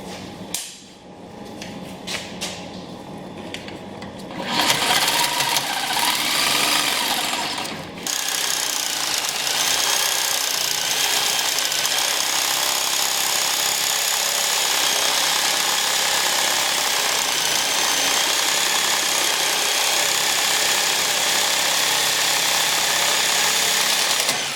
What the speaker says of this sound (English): we're going to go ahead and sawzall the upper mounts on the front just like we did the rears